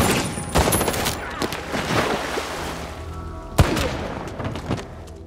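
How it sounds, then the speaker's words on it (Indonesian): Bursts of gunfire crack and boom amid a chaotic action scene, with sharp shots scattered irregularly over a rumbling background. "terjadi aksi tembak-tembakan"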